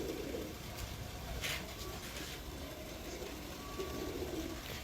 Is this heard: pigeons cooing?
yes